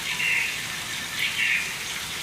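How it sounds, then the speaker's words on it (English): Artificial rain sprayed on a film set to create a rainstorm scene gives a steady, soft, hissing wash with gentle swells, quiet and unbroken, with no voices. "Now we're adding in all these elements so that you have the full rainstorm experience."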